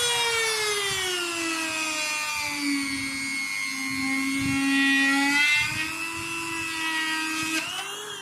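A small electric machine drills a hole in a bamboo flute, its high motor whine holding steady and dipping in pitch as the bit bites into the cane, loud and close for several seconds.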